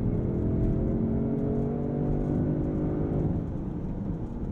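A 2023 Range Rover Sport pulling hard through its mid-range, a smooth rising engine drone and whir heard from inside the cabin, steady and fairly loud with no voices.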